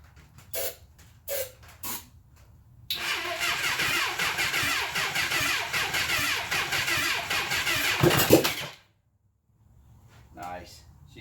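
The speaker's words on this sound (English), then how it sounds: "She's sounding very throaty, with the exception of this one." A 1980 Honda CB750F Super Sport motorcycle engine cranks with brief starter bursts, then catches and runs loud and steady for several seconds before cutting off, with a voice speaking briefly at the start and end.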